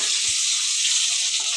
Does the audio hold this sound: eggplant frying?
yes